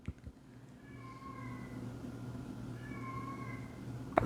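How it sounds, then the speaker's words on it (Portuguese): A cat meows twice in the background, faint and drawn out, with a low steady hum beneath and a soft knock at the end. "Tem um gato miando aqui de fundo."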